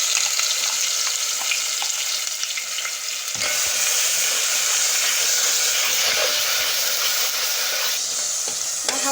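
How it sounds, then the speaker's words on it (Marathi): Ground masala paste for mutton curry fries in hot oil with a loud, continuous hissing sizzle that holds steady and swells slightly partway through, with no one talking. "आपण हे वाटलेलं वाटण जे टाकलं ना चांगलं तेल सुटेपर्यंत परतून घ्यायचं आहे"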